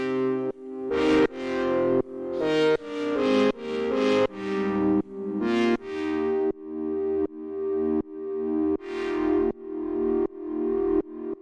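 Recreated synth patches modeled on an electronic track play a clean, plucky melodic line of repeated chord stabs, each note decaying quickly in an even rhythm, clear and alone.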